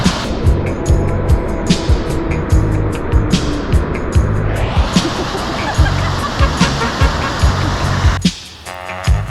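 Rushing artificial surf of a FlowRider wave machine at an indoor waterpark, a steady broadband water roar with thumps and splashes throughout, cutting out briefly near the end.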